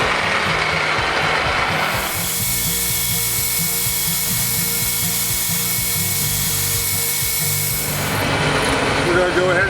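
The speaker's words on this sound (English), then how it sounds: "We're now going to go ahead and drill with a 5/16 bit because we need a tap for 3/8 16 for the casters to go in." A drill with a 5/16 bit bores through oiled steel on a table rebuild, a steady high-pitched whine running for several seconds, framed by clattering shop noise before and after.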